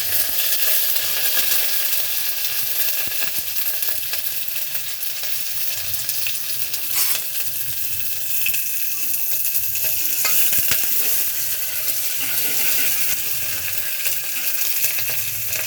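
Onions frying in a pan while cooking a ridge gourd palya, a steady loud sizzle with crackling and occasional stirring scrapes, continuous and close with no voices.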